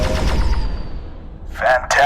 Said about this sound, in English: Pull the primary fire trigger to fire the energy cannons.